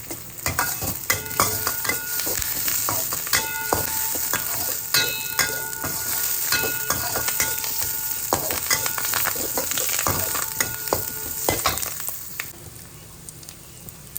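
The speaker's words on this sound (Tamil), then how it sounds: "அப்புறம் நாலு காஞ்ச மிளகா உடச்சி வச்சுருக்கோம்ல அதை போட்டுக்கணும்" Broken dried red chillies sizzle and crackle in hot oil in a pan with curry leaves, a busy close frying hiss with scattered pops and repeated clinks of a spoon stirring throughout.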